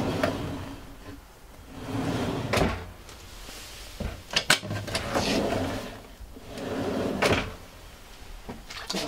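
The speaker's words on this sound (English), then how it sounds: "And you have soft closing on the drawer." Soft-closing kitchen drawers in a 2022 Dreamer D53 Fun camper van, several muffled sliding pushes and gentle cushioned thuds close by, with a couple of sharper clicks midway.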